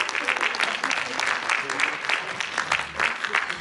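Warm, dense applause from an audience at an anniversary celebration, steady and sustained with many hands clapping at once.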